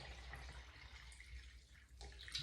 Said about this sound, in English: if I fill this jug with water